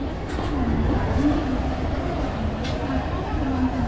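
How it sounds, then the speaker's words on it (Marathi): A train pulls out of Diva station, a low steady rumble and rolling drone heard from inside the carriage, continuous and moderately loud. "जस्ट ट्रेन दिवा स्टेशनवरून चालू झाली"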